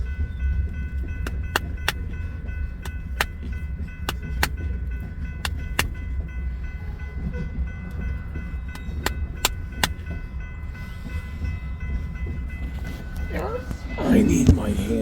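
Freight rail cars loaded with ethanol byproduct feed roll past with a low steady rumble, repeated sharp metallic clanks and wheel clicks, and a rougher burst of noise near the end.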